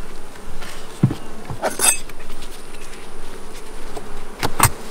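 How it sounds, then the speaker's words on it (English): A steady hum of honeybees buzzing close by in a hive box, with occasional louder passes of individual bees and faint taps. "So we got a great box of bees down there"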